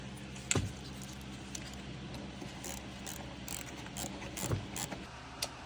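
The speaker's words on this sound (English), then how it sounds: "now you're gonna tighten up this bolt right here" A ratchet wrench tightens a bolt during installation of a turbo muffler delete on a Mk7/Mk7.5 Volkswagen GTI, giving soft clicking mechanical ratcheting with a couple of sharper knocks, fairly quiet over steady background hum.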